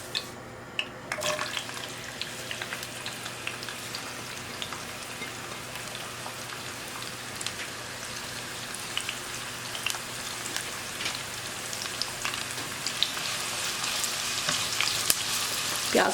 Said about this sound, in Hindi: ऑयल थोड़ा गरम हो जाए तो हमने जो प्याज बारीक काट के रखे हैं वो हम इसमें डालेंगे